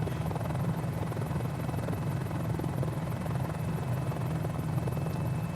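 A Mini-500 light helicopter drones steadily and loudly throughout, its rotor producing a rapid, even chop over a dense engine roar, close by with no talk.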